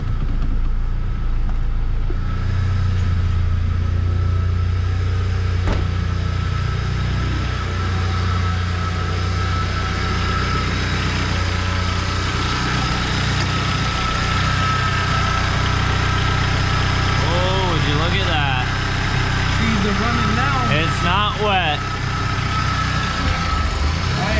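A 1994 Honda Accord engine, almost flooded and with its throttle cable not yet connected, runs at a steady idle close by, a continuous rumble with slight wavering and a few faint chirps near the end.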